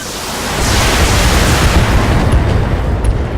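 Mech weapons fire and explosions in the BattleTech video game, a loud continuous roar of blasts and rumbling booms that swells in after a moment and holds steady.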